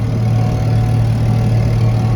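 Big engine of a Versatile 895 tractor, abandoned and brought back to running, droning steadily and close with a deep low rumble throughout, no voices.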